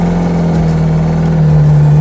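A car engine revs hard and steadily as its wheels spin during a handbrake test meant to imitate a differential lock, a loud, strained mid-pitched drone that holds throughout.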